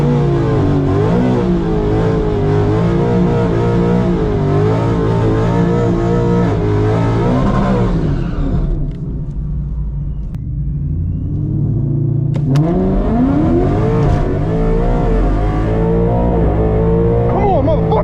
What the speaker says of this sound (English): We need to make sure we do a nice fat burnout on this one.